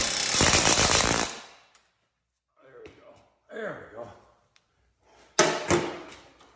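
Loud, rapid air-hammer pounding nearby for over a second as it works a seized bolt loose, then quiet with brief faint sounds, and a short final burst of hammering.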